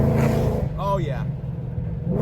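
A 1200hp manual Ford Mustang Dark Horse blips its engine on a rev-matched downshift: a quick rising rev sweep over a steady engine drone, with people talking over it.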